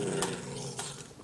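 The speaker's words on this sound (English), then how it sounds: "There are my dogs growling at me." Dogs in the Survival Extreme 4 video game growl low and continuously, a steady rumbling snarl with a couple of sharper accents, fairly close and without any talking.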